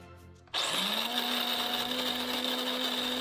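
An electric coffee grinder grinding beans whirs on abruptly and runs at a loud, steady high pitch after a brief quiet start.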